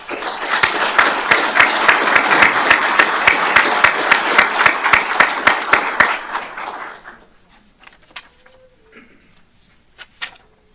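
An audience at a fire department awards ceremony gives loud, dense applause for about seven seconds. It then fades to scattered claps and quiet room sounds.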